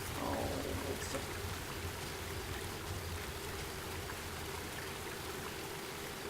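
A river flows steadily and close by in an outdoor setting, a continuous broadband rush of moving water with no voices over it.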